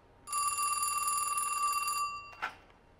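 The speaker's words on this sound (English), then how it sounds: "As I finish dialing, the call will connect," An old telephone on a STEP exchange rings once as a dialed call connects: a loud, steady electric bell tone lasting about two seconds, followed by a short clunk.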